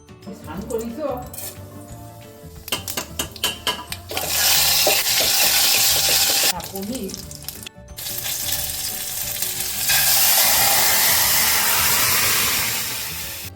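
Mixer grinder blending coriander leaves into paste: loud whirring bursts with a short break between them, preceded by clattering and knocks of handling the jar, and some voices in the background.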